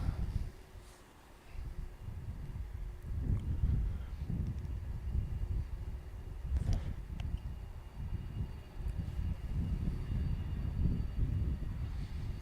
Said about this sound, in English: UPS landing from Louisville